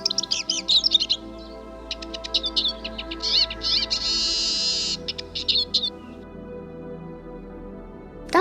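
Male Eurasian siskins sing among greenfinches in early spring sunshine, a run of thin, intricate twittering and buzzy trills in repeated bursts, fairly near and clear over a quiet background, with no talk.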